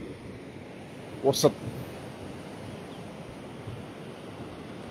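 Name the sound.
sea waves at San Pedro beach, Ivory Coast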